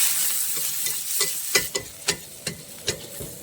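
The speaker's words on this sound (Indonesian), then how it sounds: "Tumis bawang tersebut sampai masak menggunakan api sedang." Ground onion paste stirred and sautéed in hot wok oil over medium heat, a steady close sizzle broken by several sharp scraping stirs toward the end, with no voices.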